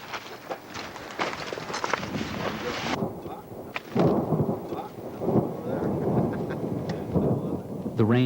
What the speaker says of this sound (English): The rain gently chimes in with the hush of the stoves